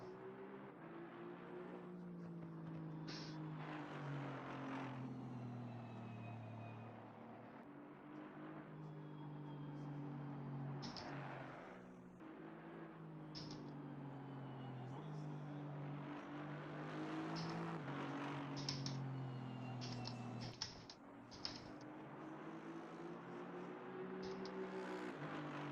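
A racing car engine in a video game drones and revs steadily, its pitch rising and falling through gear changes, with a few sharp clicks near the end.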